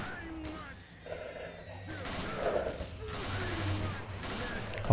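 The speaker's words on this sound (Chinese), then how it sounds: "为什么会有 枪声？" Gunfire in the video game S.T.A.L.K.E.R.: Call of Pripyat (MISERY 2.1 mod), a steady rattle of distant shots and bursts running under ambient game noise and faint voices throughout.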